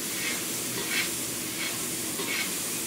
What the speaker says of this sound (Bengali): আলু ফ্রাই করো